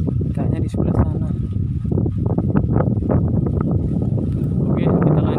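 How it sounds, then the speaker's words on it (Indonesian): Strong wind gusts roar and buffet the microphone at a fishing spot by the water, a continuous rough rush with a person talking over it. "Cuacanya, anginnya juga kencang bener."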